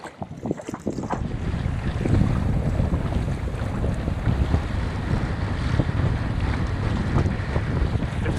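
Strong wind buffets the microphone while kayaking through mangrove waterways, with constant roaring gusts and the wash of water around the boat. It is loud and continuous throughout.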